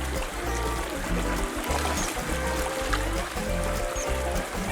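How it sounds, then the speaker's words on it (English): Steady, full rush of river water flowing at Lead Hills, a former gold and lead mining area, with a constant close wash and low rumbling undertone throughout. "I'm in this river at the Lead Hills"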